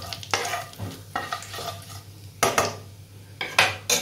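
Cumin seeds and asafoetida stirred in a hot pan, a soft sizzle under repeated sharp scrapes and clinks of a metal spoon against the pan, several strokes in an uneven rhythm.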